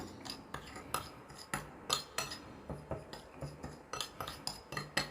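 Ground moringa root is stirred together with half a spoonful of salt, giving repeated scraping and clinking of a spoon against a bowl in an uneven rhythm, close and fairly quiet, with no talking.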